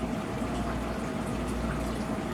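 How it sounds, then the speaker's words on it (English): Steady splashing of a water fountain set beneath a tree in a cozy outdoor corner, a continuous even wash of falling water heard alone at a moderate, close level. "We have a water fountain in the background."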